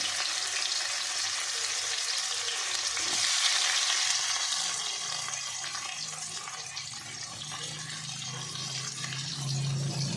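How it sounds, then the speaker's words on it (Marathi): Chopped onion frying in hot oil with crackled mustard seeds, producing a dense, steady hiss and sizzle that swells slightly partway through and then settles, close and continuous. "आता ही आपली मोहरी तडकून ही झालेली आहे, तर त्यामध्ये आपण आता कांदा टाकून घेऊया"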